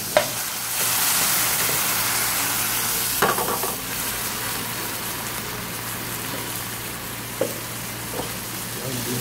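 Seafood for spaghetti sizzles loudly in a pan with white wine as sauce is added, a bright burst of frying that settles into a steady hiss, punctuated by a few clanks of utensils.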